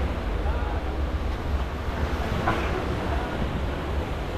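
Ocean waves wash steadily against the seashore at Cozumel, Mexico, a continuous hiss of surf with wind buffeting the microphone and no clear breaks.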